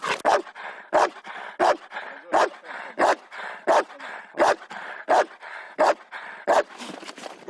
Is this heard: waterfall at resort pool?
no